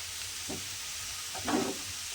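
A quiet, steady sizzle of cauliflower frying in a pan, with two brief scraping stirs about a second apart.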